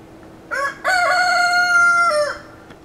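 A rooster crows once, loud and close, a short lead-in note followed by a long drawn-out call that trails off, with no other sounds.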